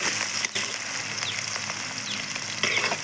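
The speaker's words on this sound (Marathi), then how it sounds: "त्यानंतर कांदा टाकून घेऊयात. त्या परतून घेऊयात." Onion frying in oil with cumin and mustard seeds, a dense close sizzle with faint crackles and a brief stirring knock, steady throughout.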